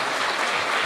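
An audience at a community mental health forum applauds, a brief, dense burst of steady clapping filling the room with no voices over it.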